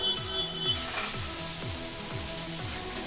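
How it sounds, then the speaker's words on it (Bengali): Boiled soya chunks hit hot smoking oil on a medium flame, giving a steady loud sizzle with faint scraping stir sounds underneath. "তো এবার আমি যে সয়াবিনগুলো সিদ্ধ করে রেখেছিলাম সেগুলো এর মধ্যে আমি ঢেলে দিচ্ছি।"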